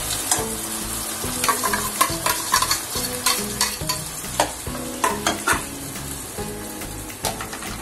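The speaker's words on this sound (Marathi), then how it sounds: "आता आपण याच्यामध्ये टोमॅटोचं जे दळलेलं आहे ते पूर्ण घालू" Ground tomato puree is poured into a sizzling pan and stirred, with a steady hiss of frying under repeated scraping and clattering strokes of a spoon, close and with no talk.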